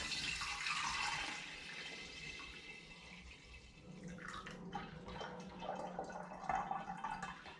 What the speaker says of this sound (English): I'm now going to attempt to pour what's in the pan through this sieve and a funnel into this demijohn.